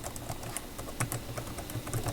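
Rapid typing on a Logitech K860 ergonomic keyboard, with a quick, uneven patter of soft key clicks and a few louder taps, close by and with no talking.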